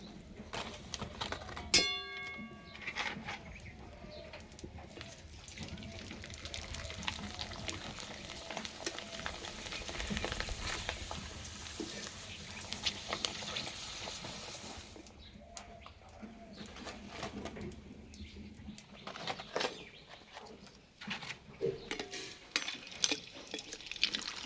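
Flour papad frying in hot oil, a continuous soft sizzle and crackle that swells and fades over time, fairly quiet, with birds chirping faintly in the background.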